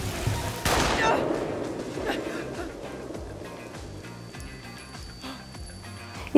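A single sharp gunshot in the anime film Weathering With You cracks out near the start, loud and close, then its echo fades into quieter background sound.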